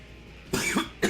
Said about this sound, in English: how much I start to cough when I actually start talking